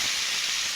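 Cut potatoes hiss and sizzle as they go into hot oil in a kadai, a steady bright crackle filling the short moment, close and fairly loud.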